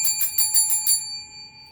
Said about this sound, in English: Remember that little bell that's in the bottom?